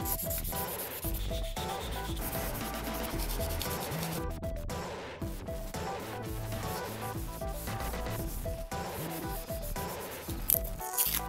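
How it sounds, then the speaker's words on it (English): Shellac is being sanded into epoxy knife handles, a steady close-up scratchy rubbing that runs without a break under a faint background. "I'm thinking I'm going to sand in some shellac to really fill in all those pores."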